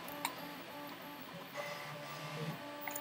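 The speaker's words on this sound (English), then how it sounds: "there's a bunch of resonance from the printer" A 3D printer runs nearby with a steady mechanical hum and resonant whirring, its motors ticking softly in an even, continuous texture.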